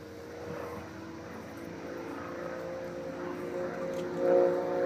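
Propeller aircraft at the Evans Head air show drone steadily overhead at high altitude, a continuous moderate engine hum that swells slightly near the end, with no talking.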